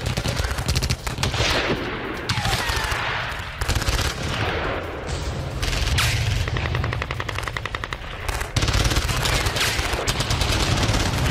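Sustained machine-gun fire during a militant attack on Pakistani security forces in Khyber Pakhtunkhwa: loud rapid bursts and overlapping volleys that continue almost without pause, briefly thinning before resuming at full intensity.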